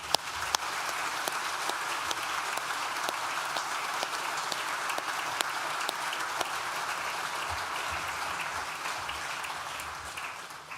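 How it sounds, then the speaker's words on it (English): Sustained audience applause at a Nottingham Trent University graduation ceremony in a hall, many hands clapping evenly for about ten seconds, with a few sharper claps standing out. "Please join me in thanking them with a well-deserved round of applause."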